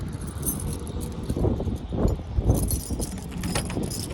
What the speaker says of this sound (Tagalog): Kunin ko muna susi ko.